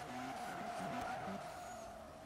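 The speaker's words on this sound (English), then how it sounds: "here comes the RX-7" Mazda RX-7 drifting in Forza during a drift competition: engine drone and tire squeal held for a couple of seconds, fairly faint and steady, with no talk over it.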